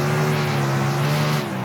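A race car in the iRacing simulator lapping a slick track, its engine drone holding loud and steady with a faint tire hiss underneath and no talking.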